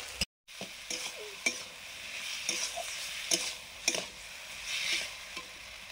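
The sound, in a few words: chopped onions frying and being stirred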